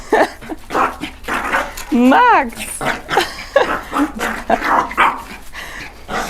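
An excited dog near water barks and yips repeatedly in a quick burst, close and loud, while people talk over it.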